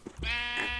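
A Minecraft sheep gives one drawn-out, wavering bleat, loud and close, heard alone with a short click just before it.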